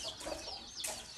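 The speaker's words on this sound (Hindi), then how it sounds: "और मुर्गी सब भी अब घुसेंगे" Chickens cluck and fuss close by at a rural home at dusk, with short rustling calls and what sounds like a flap of wings over low background noise.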